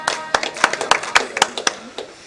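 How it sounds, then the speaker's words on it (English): A small group claps for themselves after finishing an exercise in a session, loose uneven hand claps close by, about a dozen distinct slaps thinning out over two seconds. "Okay, give yourselves a clap."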